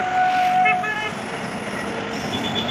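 A train runs past near Igatpuri in Nashik, with a steady rail rumble and brief high squealing tones early on, fairly close over open outdoor ambience.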